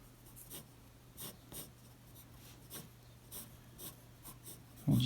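A pencil sketching on paper, drawing figure structure: soft, scratchy strokes repeat in short, irregular bursts, close and quiet, with no talking.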